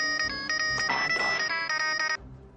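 A phone ringtone plays loud and close, a steady electronic melody repeating for about two seconds before cutting off into quiet room noise.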